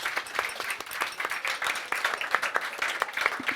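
Audience applause at a bar symposium session in Cologne, a steady patter of many hands clapping with scattered louder claps throughout, moderately close and with no talking.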